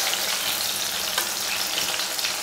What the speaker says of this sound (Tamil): 4 கத்திரிக்காயை இது போல் எண்ணெயில் வதக்கி எடுத்து வச்சுட்டு நம்ம கிரேவி பண்ணலாம்